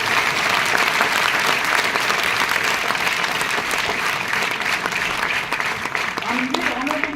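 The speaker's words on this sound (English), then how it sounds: "stand up to a round of applause" Sustained, dense applause from a large audience fills Basantar Auditorium, steady and loud throughout, with a voice briefly rising near the end.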